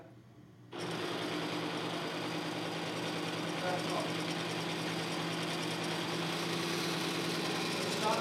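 A diesel engine runs steadily after Bi-tron additive is put into its fuel, a continuous mechanical whirring hum with a faint knock that starts abruptly and stays loud and even throughout, with no squeal.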